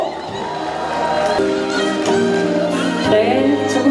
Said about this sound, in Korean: 여러분 박수 함께 함성을 한번 크게 한번 모아주십시오